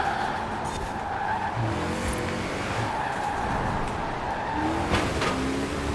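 An Ariel Atom racing in Forza Horizon 4 keeps up a steady engine drone with rising and falling harmonics as it shifts gears, and short tire squeals and skids come through around the two and five second marks.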